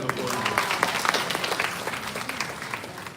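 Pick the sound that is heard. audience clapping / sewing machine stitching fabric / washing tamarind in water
audience clapping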